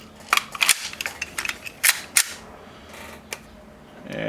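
Airsoft Hi-Capa pistol with a CNC 6061 aluminium loading nozzle being handled and fired: a cluster of sharp metallic clicks and snaps, then a couple of isolated cracks, close and loud.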